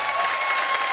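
A brief moment of steady applause from an interview audience greeting Shashi Tharoor, dense and moderately loud with a faint tone running through it.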